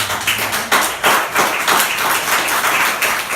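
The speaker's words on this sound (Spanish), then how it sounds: "Yo le daría un aplauso a Cristo." A burst of clapping from a church congregation during a sermon, hands striking in an uneven patter that swells and carries on steadily.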